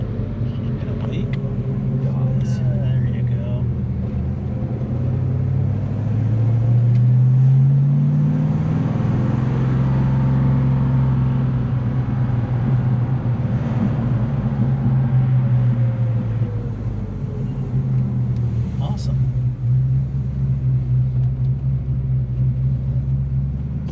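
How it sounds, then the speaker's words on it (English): A 1970 Dodge Dart Swinger's 340 V8 idles fast and lumpy with a steady low rumble and a brief rising rev, continuing throughout while people talk over it. "It's idling high, and it's just drawing fuel from somewhere."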